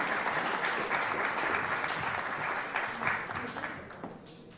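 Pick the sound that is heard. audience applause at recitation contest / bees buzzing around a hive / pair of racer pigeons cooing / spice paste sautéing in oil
audience applause at recitation contest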